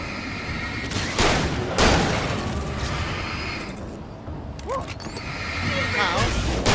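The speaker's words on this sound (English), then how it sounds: "Let's try this shotgun." Shotgun blasts in the video game Alan Wake, with a few sharp, loud booming shots spaced apart amid layered game ambience and effects.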